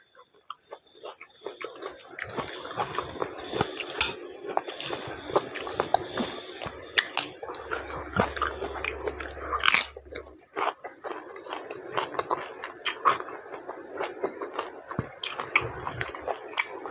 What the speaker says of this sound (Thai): มากินมะเขือเทศ